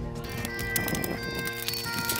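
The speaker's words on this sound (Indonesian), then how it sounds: "Terus juga kita harus berusaha supaya menggiring kudanya supaya mereka mau masuk ke kandang." Horses being driven into a pen on Sumba, with busy hoof clatter and movement under a dense, loud layer of outdoor noise and background music.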